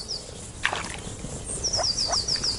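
Moor frogs call from a pond in a wild German wetland, a series of short, soft croaks and bubbling notes repeating at a moderate distance, with high chirping bird-like trills above a faint ambient background.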